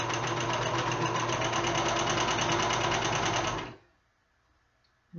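A sewing machine runs steadily at close range, stitching slippery box pleat drape fabric with a fast, even whir, then stops abruptly and leaves near silence.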